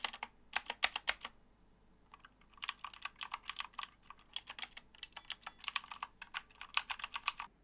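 Typing on a Keychron K2 75% mechanical keyboard fitted with clicky Gateron blue switches: fast bursts of crisp, close clicks come in irregular flurries separated by brief pauses, with no voices.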